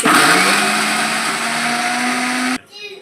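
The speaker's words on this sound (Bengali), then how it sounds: "এবারে আমি ভালোভাবে মিক্সিতে বেটে নেব।" A mixer grinder whirs loudly and steadily as it grinds green peas into a fine paste, then cuts off abruptly, leaving a faint rattle.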